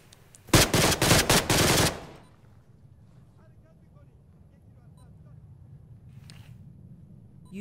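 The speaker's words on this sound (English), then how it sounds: "They're trying to shoot through." Automatic gunfire in ArmA 3 blasts through a door: one rapid, loud burst of shots lasting over a second, then it drops to a low background rumble.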